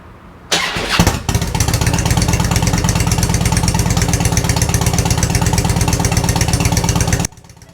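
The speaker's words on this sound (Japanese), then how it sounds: "このバンスのマフラーの音がどんな音かわからないと話にならないので、一度聞いてみてください" A Harley-Davidson Ultra with an aftermarket Vance & Hines exhaust cranks and fires up, then settles into a loud, loping, rumbling idle with a dry, throaty exhaust pulse before abruptly cutting off.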